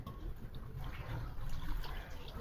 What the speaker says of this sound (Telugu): ఇప్పుడు 1 లోటాడు నీళ్ళు.